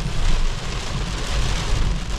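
Heavy rain pours down at the Taste of Manila outdoor festival in Toronto, a loud, dense, steady roar of drops without pause and with no voices over it.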